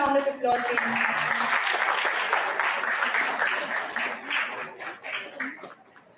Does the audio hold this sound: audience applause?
yes